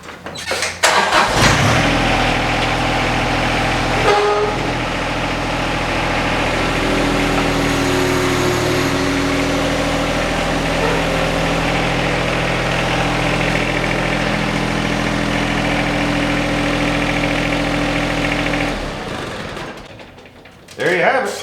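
John Deere 1025R compact tractor engine starting and then idling steadily at close range while the tractor backs off its mower deck, a low continuous rumble lasting most of the clip before cutting off near the end.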